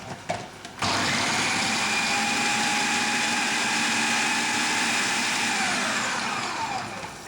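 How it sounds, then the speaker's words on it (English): Food mixer pulsing chopped peppers and onions, a sudden loud whirring motor drone starting after a brief clatter and running steadily for several seconds, close and alone without talk. "put in your peppers and your onions into your mixer. Give them a quick pulse."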